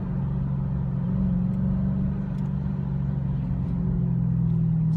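A Dodge Charger Hellcat, a 700-horsepower four-door sedan with an automatic gearbox in manual mode, rolling out on a track at a fall rally: a deep, steady engine rumble with a low throb, loud and close throughout, no talking.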